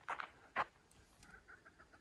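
Soft, distant grouse calls from the trees, a couple of short clucking notes followed by faint chirps in a quiet outdoor setting.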